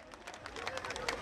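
Crowd clapping and cheering outdoors at a daytime carnival parade, the corso in Bourg-Saint-Andéol, greeting the carnival queen; dense, steady applause with crowd voices mixed in.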